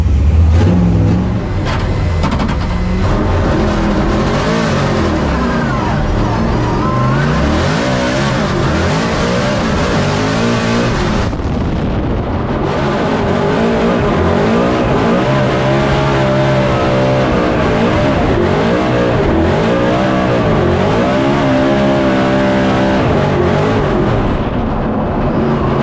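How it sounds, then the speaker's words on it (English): A 2024 Mustang RTR drift car at a Formula Drift competition runs loud and close, its engine revving up and down in repeated sweeping surges that continue without a break. "So let's fire her up, do our last run of practice, and then we go straight into qualifying."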